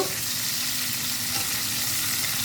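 Pomfret fish pieces fry in oil with a loud, even, continuous sizzle that runs throughout at close range, without speech.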